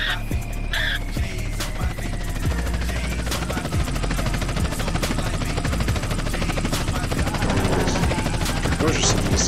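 A video game helicopter's rotor chops loudly and steadily throughout, a dense rhythmic thrum with occasional sharp gunfire-like cracks mixed in, no talking.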